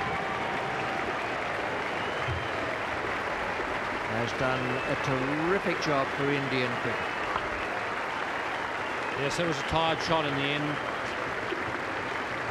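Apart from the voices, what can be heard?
SCG cricket crowd applauding VVS Laxman's innings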